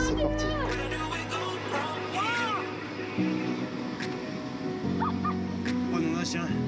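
A dog barks and yips in short, high, rising bursts, then whimpers more faintly, over steady background noise with people talking nearby.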